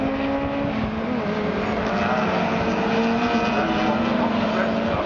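Racing cars, including a Hillman Imp and an Alfa, run at Cadwell Park's mountain section, with a continuous loud engine howl whose pitch rises and falls as they pass.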